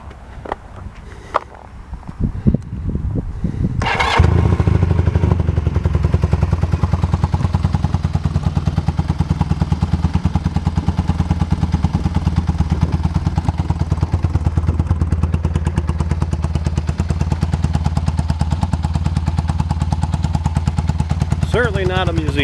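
A 1982 Kawasaki KZ440 motorcycle, sold for parts or repair, starts after a few clunks and settles into a loud, close, rapid rattling idle that runs steadily to the end.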